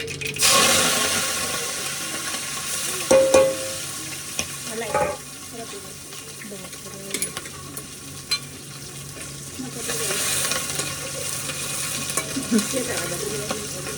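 Mustard seeds crackle and sizzle in hot oil for a khaman tempering, a close steady frying hiss broken by brief pops and clatters, with faint talking in the background.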